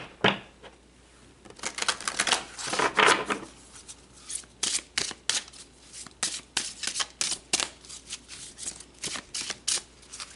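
Tarot cards are shuffled close up in quick, crisp bursts of riffling and slapping that come in irregular rhythm, with no talking.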